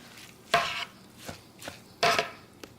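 Ground hot pepper mash is mixed with salt in a bowl, giving a few separate wet, squelching strokes at irregular intervals, two of them louder, with no one talking.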